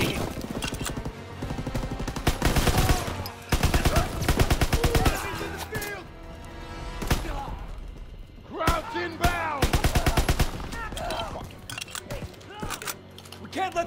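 Dense bursts of rifle and machine gun fire from a D-Day shooter game rattle continuously, loud and close, with rapid staccato volleys and brief lulls, while a player shouts orders over the din.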